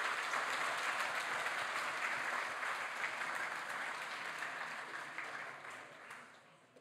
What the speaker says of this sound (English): I think that one does deserve its own round of applause.